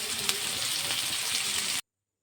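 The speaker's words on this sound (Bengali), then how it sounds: "পেঁয়াজটা ভালো করে লাল লাল করে ভেজে নিলাম।" Onions frying in oil in a wok, a dense close sizzle with crackling pops that runs steadily and then cuts off abruptly into silence.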